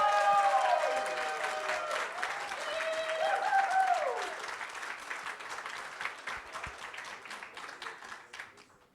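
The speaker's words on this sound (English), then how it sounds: "So we'll do another round of applause meter" Audience applause at an arbitration conference event for an applause meter vote, a steady moderate wash of clapping over a faint musical tone that slowly fades out.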